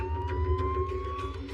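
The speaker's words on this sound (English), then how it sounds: "He put his siren on." An unmarked police car's siren sounds in a brief, steady electronic tone rising slowly over a low engine rumble, with faint sharp clicks scattered through it.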